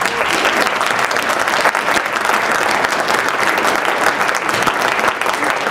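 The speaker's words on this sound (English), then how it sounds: "give us some applause." A keynote audience at a career day applauds loudly and steadily, dense clapping filling the hall throughout with no letup.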